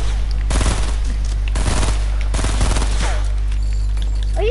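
Video game gunfire bursts out in three rapid volleys, loud and close, with a steady low hum running underneath and short gaps between the bursts.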